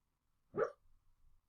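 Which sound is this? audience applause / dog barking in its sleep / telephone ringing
dog barking in its sleep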